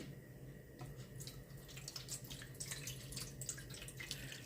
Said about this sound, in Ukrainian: Отак я на, на дно сюди наливаю води